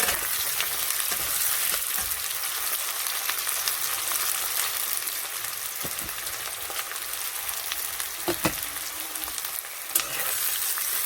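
A generous heap of chopped onion fries in a pan for a meat dish, a dense, unbroken sizzle close up with occasional scraping stirs and small clicks.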